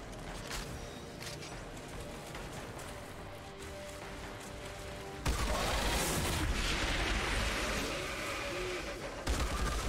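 Loud gunfire in the video game Outriders: dense, rapid shots and booming blasts that grow heavier and more continuous halfway through, with no talking.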